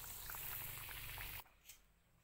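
Tumpi snacks frying in hot oil give a dense, steady sizzle up close that cuts off abruptly partway through, leaving near silence with a faint clink.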